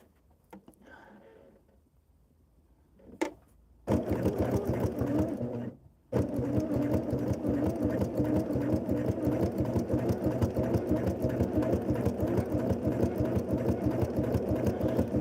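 A sewing machine fitted with a walking foot stitches a quilt made from sweatshirts, running in a steady, rapid mechanical rhythm with one brief pause. A voice speaks quietly before the stitching begins.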